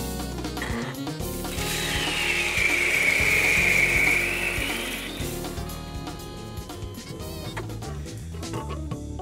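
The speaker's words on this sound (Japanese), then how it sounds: "本日使用します、グラインダーですが、ボンマックの860になります。" A Bonmac 860 electric coffee grinder grinds beans, a loud steady mechanical whir and crunch that swells in the middle and then settles, with no voices.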